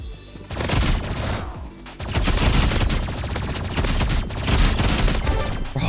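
Gunfire in the video game Roblox Rivals, loud rapid bursts of shots repeating in quick succession after a short lull, close and continuous with no voices.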